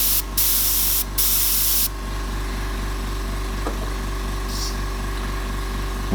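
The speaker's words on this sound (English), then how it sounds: "Gonna put a bit of a mist in under there because I haven't got enough darkness in there" An airbrush spraying a fine mist of paint while airbrushing an owl: short hissing bursts of air close by, over a continuous pulsing compressor drone throughout.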